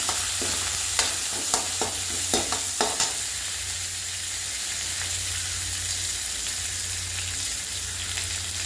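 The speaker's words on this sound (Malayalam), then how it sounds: "ഉള്ളിയും കറിവേപ്പിലയും കൂടെ ഇട്ട് അതിനെ നന്നായിട്ട് ഫ്രൈ ചെയ്യണം" Onions and curry leaves fry in a pan for bottle gourd koottu, giving a steady sizzle with a few early clinks and scrapes of stirring, then continuous frying alone with no voices.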